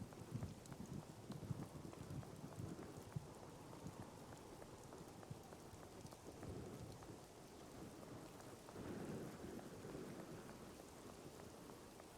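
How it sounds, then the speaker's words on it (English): Thunderstorm with steady rain in the video game Sherlock Holmes: The Awakened, a continuous wash of rainfall with low rolling thunder swelling a few times, heard alone without voices. "I can kind of hear the storm a bit better"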